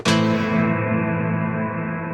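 A single guitar strum through the Liminal Space 2 digital reverb plugin rings out and decays slowly into a long, washy reverb tail, loud and sustained throughout.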